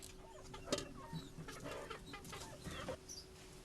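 Chickens raised by a family at a relocation site in Sri Lanka cluck in a few soft, scattered calls against faint outdoor background noise.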